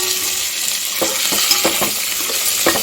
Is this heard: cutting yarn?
no